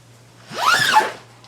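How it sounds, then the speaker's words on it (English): A zipper being opened on the bag of a blue WWE Universal Championship replica title belt, a single loud close zip rising and falling over about a second, alone. "Oh, I get the zipper."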